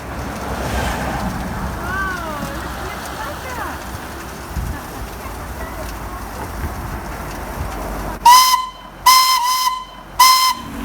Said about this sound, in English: he does like pulling the hooter